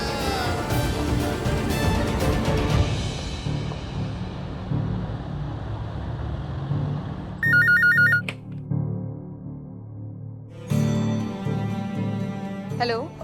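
A telephone ringback tone sounds while a call is being placed, in two separate bursts of trilling rings over a steady, busy background bed.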